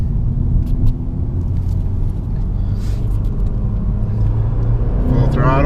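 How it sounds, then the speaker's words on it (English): A 2018 Honda Civic Si accelerating at full throttle in second gear, a loud, steady in-cabin engine roar with rising pitch that builds continuously throughout, with no talk over it. "Full throttle."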